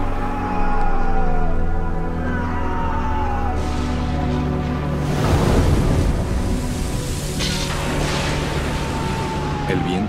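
Stormy wind gusts over a rough, surging sea in a dramatic sound effect, with continuous roaring noise, heavy low rumbles and crashing swells building around the middle, carrying steadily throughout.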